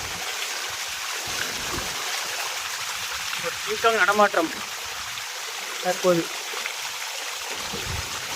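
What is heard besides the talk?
flowing stream water at a trekking spot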